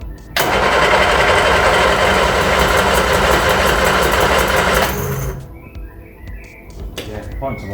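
A Reliant Regal Supervan petrol engine cranks over continuously and loudly with a steady mechanical churn for about five seconds, then stops, leaving quieter clicks and faint background sounds.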